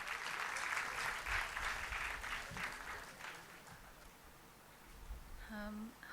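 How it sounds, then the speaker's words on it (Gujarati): An audience at a book launch event applauds with dense, fairly loud clapping that fades over several seconds. A short tonal sound comes near the end. "તો આપણે હિરલબેન માટે તાળીઓના ગડગડાટથી એમને વધાવીએ"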